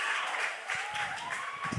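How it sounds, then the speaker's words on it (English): A rowdy crowd at a high school varsity football game between Eastlake and Woodinville, a steady distant wash of cheering and clapping without breaks. "Got a rowdy crowd tonight"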